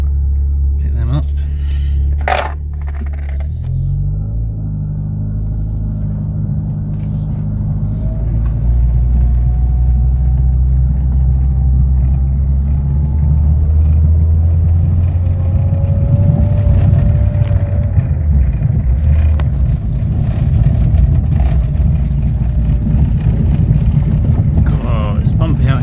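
A Citroen AX rolls across a bumpy field, its engine a low steady rumble with clunks and rattles from the rough ground, loud and close inside the car, with a voice speaking over it at times.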